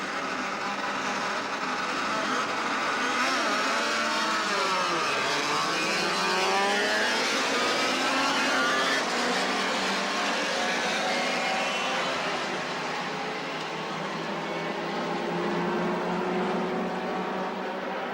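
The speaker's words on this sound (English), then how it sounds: "Good start from Brock, but Johnson challenging on the inside" Race cars launching at the start of a 1981 Australian Endurance Championship round at Surfers Paradise, including a Toyota Celica, Mazda and BMW, a loud massed engine roar with rising and sweeping revs as the field accelerates past.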